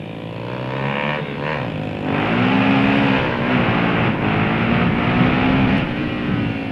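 A motorcycle accelerates hard in third gear, its engine note climbing and holding loud and close with a steady rising drone and some wind noise.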